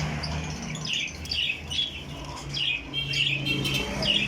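Pigeons, including Kasuri golden pigeons, call and flutter nearby, with repeated short chirps and squawks over a low, steady background rumble.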